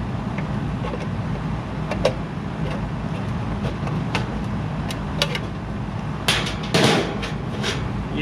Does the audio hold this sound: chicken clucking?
no